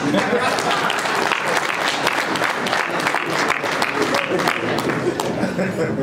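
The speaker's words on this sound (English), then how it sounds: "I think we deserve an applause." Guests at a gala dinner give sustained, dense applause, loud and steady for several seconds as a crowd of hands claps together, with a few voices mixed in.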